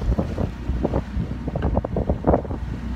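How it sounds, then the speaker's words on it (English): A boat pushes through choppy water on Lake Michigan, with steady wind rumble and irregular slaps and splashes against the hull throughout. "It's pretty lumpy, which slows the boat down."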